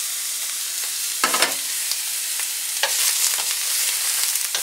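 Sausages fry in a pan over lowered heat: a steady, close sizzle fills the whole stretch, broken by a few sharper crackling bursts as the fat spits, with no talking.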